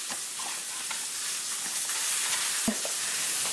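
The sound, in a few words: onions frying in pan with bacon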